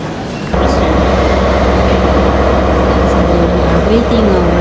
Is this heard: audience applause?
no